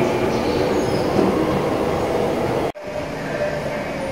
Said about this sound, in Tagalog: sumakay ako sa tren